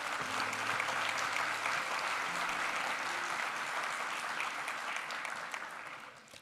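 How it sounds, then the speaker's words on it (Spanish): A graduation-ceremony audience claps for new theology graduates, a steady wash of many hands that holds evenly, then thins and fades away near the end. "A este grupo de bachilleres en Sagrada Teología en Villapaul de Funza brindemos un fuerte aplauso"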